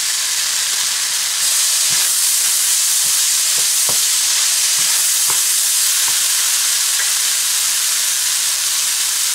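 Onions and chopped chilli frying in a pan give a loud, steady sizzle, with a series of sharp stirring clicks and scrapes spread across the middle.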